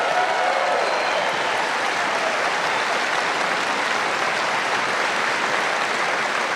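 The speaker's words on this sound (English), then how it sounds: "Let's give it a round of applause to them." Dense, steady crowd applause fills an outdoor-style political rally in Conway, South Carolina, a loud continuous wash of many hands clapping without pause or voices standing out.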